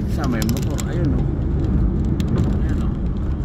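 A motorcycle passing in heavy traffic on EDSA, its engine a steady close drone blending with the surrounding road noise while people talk over it.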